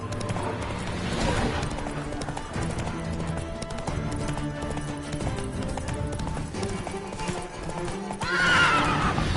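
A horse gallops with steady, rhythmic clip-clop hoofbeats under a full, busy background, and near the end it gives a loud neigh.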